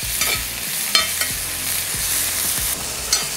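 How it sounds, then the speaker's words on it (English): Pancetta sizzles steadily in a little oil in a pan, a continuous bright crackle with occasional stirring scrapes and clinks, close and without any talk. "pancetta first, get that sizzling away"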